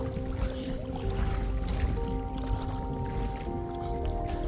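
A pack raft crossing a roughly 600-meter channel with a helping wind: steady water wash and lapping against the boat, with paddle strokes blending into a continuous, fairly close noise bed, alone with no voices.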